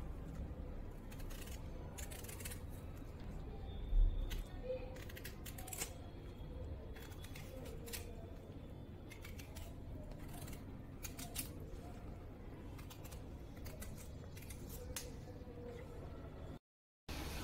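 Knife cutting away the tough skin of a pumpkin for halwa, giving a run of quiet, short clicks and scraping strokes across a soft background hum, with no talking.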